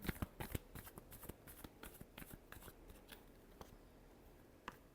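Tarot cards being shuffled in quick riffling bursts, crisp papery flutters and taps that crowd together at first and then thin out, with no talking.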